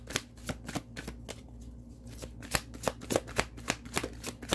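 Tarot cards are shuffled and drawn from a deck, giving a quick, close run of crisp flicks and slaps in an uneven rhythm, soft overall, with a low steady hum underneath and no talk.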